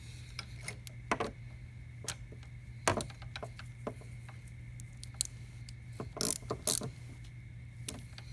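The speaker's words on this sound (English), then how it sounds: "really lightly hand tighten with the wrench" Light metallic clicks and taps of a wrench snugging the bolts on a Super Cub motorcycle clutch cover, scattered irregular ticks over a steady low hum, close and fairly quiet, with no talking.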